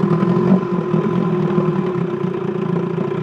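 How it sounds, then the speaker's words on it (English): A 1969 Johnson 20 hp outboard motor idles quietly on a 1969 Sea Nymph boat, holding a steady, even drone with faint clatter throughout, close by and heard alone. "Quiet running motor."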